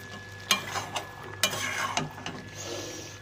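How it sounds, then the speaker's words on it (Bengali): A pinch of garam masala is stirred into a cooking dish, with a run of sharp, close spoon scrapes and knocks against the pot over a soft sizzle, and a faint steady hum underneath. "হালকা একটু গরম মশলা দিয়ে একটু নাড়িয়ে বন্ধ করে দেবো"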